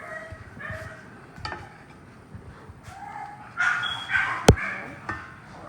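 Dogs whine and whimper intermittently, then break into a few louder barks with a sharp knock near the end.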